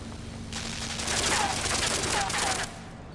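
Shooting devices in the video game Limbo fire a rapid burst of gunshots lasting a couple of seconds, loud and close over a low steady hum, ending abruptly.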